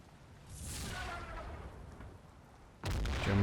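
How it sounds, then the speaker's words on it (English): German artillery shelling in Combat Mission: Battle for Normandy, a distant rumbling boom that swells and fades, followed by a sharper, louder impact near the end, quiet and far-off overall. "German artillery continues to pound our rear."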